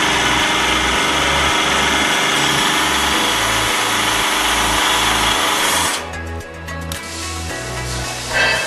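A hydraulic punching and bending machine runs close by while bending a metal bar, giving a loud steady motor drone with pulsing pump cycles that ease off slightly toward the end.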